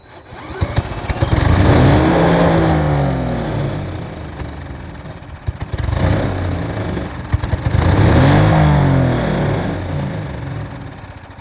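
The small engine of an abandoned wood chipper running with a spinning blade, revving up twice in rising surges that fall back to a rough, uneven idle, loud and close.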